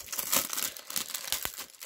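Close, faint crinkling and rustling of thin cellophane wrap being peeled and pulled off a sealed DVD box set in short bursts.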